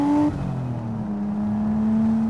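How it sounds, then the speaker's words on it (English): A Nissan R34 Skyline sedan with a 330 hp turbocharged RB engine gives a steady engine drone that shifts in pitch, with a soft rush of air from the turbo beneath it. "Lots of rushing air from the turbo."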